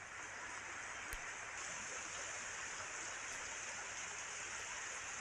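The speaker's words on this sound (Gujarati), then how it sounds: "ભારે વરસાદના કારણે અનેક જગ્યાએ આવી રીતે ગલીઓમાંથી પાણી વહી રહ્યા છે" Rainwater rushing through village streets after heavy rain in Malpur, Aravalli, a dense, even wash of flowing water heard at a moderate distance, faint and continuous with no voices.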